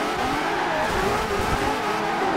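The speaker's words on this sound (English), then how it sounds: "this V12 is vicious, man." A twin-turbo V12 Aston Martin One-77, tuned past 1000 hp in Forza Horizon 2, roars loudly and steadily under high revs, with a hint of tyre noise and no talking.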